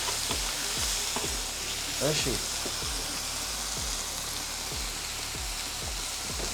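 Meat tibs sizzle and fry in a pan with a steady crackling hiss, close and constant, punctuated by regular scraping stirs, while a voice speaks briefly.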